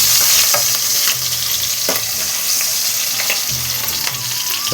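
Green chillies sizzle and crackle in hot oil for a paneer curry, a steady close frying hiss with occasional stirring scrapes and pops throughout.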